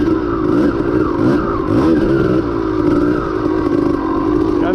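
A 1992 Kawasaki KDX200 dirt bike is ridden in Florida, its engine droning loud and steady up close throughout with small rises and dips in pitch and no talk over it.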